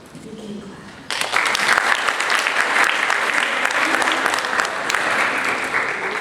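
A school presentation night audience breaks into loud, sustained applause after a brief quiet moment, with many hands clapping together in a hall and the clapping holding steady before easing slightly.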